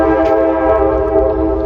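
A train horn sounds loud and sustained nearby on a hiking trail, a steady rich chord held without break over the low rumble of the passing train.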